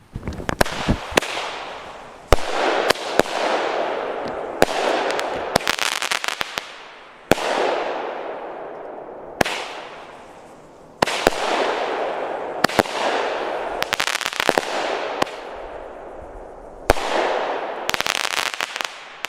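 An original batch of firecracker pyrotechnics goes off in a long, rapid series of sharp bangs and crackling bursts, steady and fairly loud for nearly twenty seconds with short pauses between volleys.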